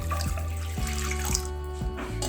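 A little water is poured into a pressure cooker as a continuous close splashing trickle that runs for the whole couple of seconds, with no talking.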